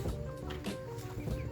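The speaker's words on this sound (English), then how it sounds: "go say hi to the baby chickens" Young chickens, three hens and a male, cluck and chirp close by in short bursts, several small calls spread through the moment.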